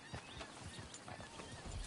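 Horse hooves clip-clop in a steady walking rhythm in the Red Dead Redemption video game, faint and under a dense wash of background ambience.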